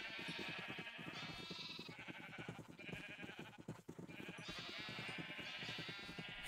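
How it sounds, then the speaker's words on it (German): Several sheep in the Minecraft video game bleat repeatedly in a farm pen, overlapping nasal bleats coming in bursts over a steady game background, fairly close and moderately loud. "So, hier, Schafe."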